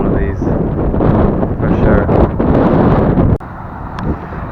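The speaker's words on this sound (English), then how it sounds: "we're pushing on despite the wind" Gusty wind buffets the microphone outdoors near a BMW i8 Protonic Frozen Black Edition, a loud continuous rumble that drops off sharply near the end as a voice speaks over it.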